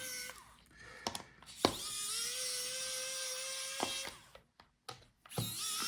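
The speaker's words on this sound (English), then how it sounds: "So unscrew all the screws." Small power screwdriver whirring as it backs out the bottom-case screws of a Lenovo IdeaPad 5 15ITL05 laptop, several short bursts with a sustained motor whine in the middle, close and fairly quiet.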